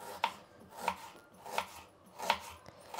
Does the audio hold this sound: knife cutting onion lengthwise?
yes